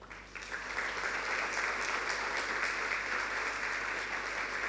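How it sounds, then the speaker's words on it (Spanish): A church congregation at a Sunday family service applauds: sustained, even clapping from many hands runs throughout, loud and close, with no pause. "Denle un aplauso al Señor."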